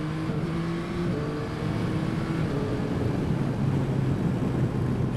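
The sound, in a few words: Yamaha Tracer 9 GT 2021 motorcycle riding in first gear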